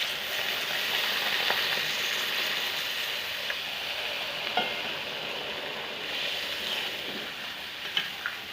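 Fish curry with eggplant sizzles steadily in a hot pan as water goes in, a dense continuous frying hiss with occasional soft clinks of stirring.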